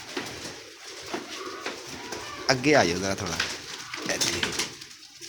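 Pigeons at a fancy-bird sale coo softly in a short burst near the middle, under a man's close speech and light handling noises.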